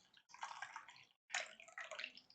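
Tea pours into a cup in two close, trickling bursts separated by a brief pause, soft and liquid, with no voices.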